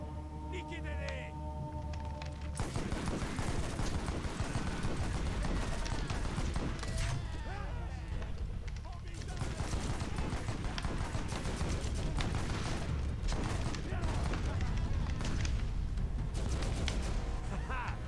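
Rapid automatic gunfire from a turret in the video game Borderlands, a dense, sustained clatter of shots that runs for many seconds and is mixed with other game sounds and voices.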